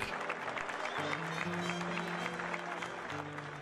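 Crowd applause fills an arena, dense and continuous clapping with steady sustained tones running underneath.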